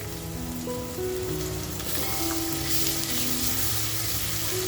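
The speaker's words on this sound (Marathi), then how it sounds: "आपण जी अद्रक, लसूण आणि मिरची जर टेचलं होतं ते आता याच्यामध्ये टाकून घेऊया" Ginger, garlic and chili added to onions frying in a pan for home-style dum mutton biryani, giving a steady close sizzle with light crackle throughout.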